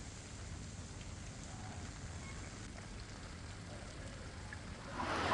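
Heavy monsoon downpour in Gujarat, heard as a faint, steady wash of rain hiss that swells louder in the final moments.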